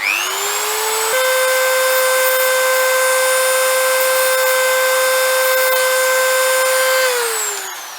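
A power tool trims the end of a steel wire for a model airplane wire bender: one steady high-pitched motor whine spins up, holds loud and even for about six seconds, then winds down, with no talk.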